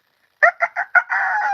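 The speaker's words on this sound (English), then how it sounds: "the cock-a-doodle-doos used to crow" A rooster crowing sound effect, a loud close cock-a-doodle-doo with several short clipped notes and then one long drawn-out call, heard alone.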